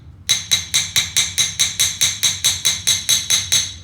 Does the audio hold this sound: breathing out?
no